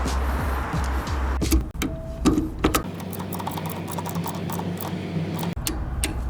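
Several sharp plastic clicks and snaps of a gasoline car's fuel line connectors fastening sound up close amid handling noises, with a faint steady background hum.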